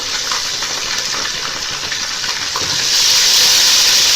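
Onions with garlic-ginger paste fry in a pan, a loud, continuous broadband sizzle up close that swells and grows hissier toward the end, with no talk.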